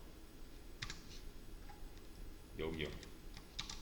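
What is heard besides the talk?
typing on a computer keyboard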